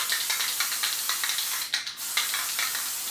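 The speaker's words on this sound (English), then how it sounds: "I'm gonna give it a little bit of spray glue" Spray glue hisses from an aerosol can onto a floral object in a series of short, close, sharp bursts with brief pauses between them.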